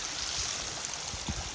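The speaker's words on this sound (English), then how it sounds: "is it really a spring anymore, or is it a brook?" Mountain spring water flowing like a brook beside a trail shelter, a steady close rushing and gurgling stream with no voices.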